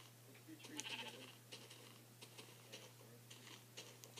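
Sheep bleats from the video game Minecraft, faint and brief, recur a few times over a quiet background with a steady low hum.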